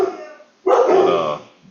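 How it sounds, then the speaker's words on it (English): Dogs let out a single loud, sustained howling bark lasting under a second, close by and clear, with quiet before and after it. "Apologies for the dogs."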